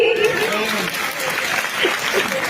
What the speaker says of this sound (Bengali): ফুলকুলিরা তোমরা যদি জোরে হাততালি দাও তাহলে তোমাদের দিয়ে গান শুরু করব